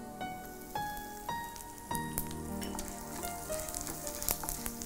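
Hot oil crackles and sizzles as asafoetida powder goes in during a Tamil cooking-show preparation, with sharp pops over a steady fry and faint tonal sounds in the background.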